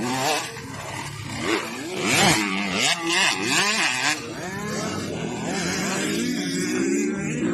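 King Cobra racing motorcycles of Iligan City, at a race in Don Carlos, Bukidnon, scream past with rising and falling engine whines, several bikes revving and passing close in loud overlapping bursts.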